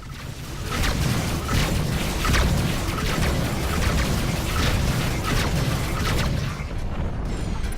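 In the space combat game Rebel Galaxy, a destroyed target explodes in a loud, rumbling, sustained blast with deep booming low end and crackling debris bursts lasting several seconds.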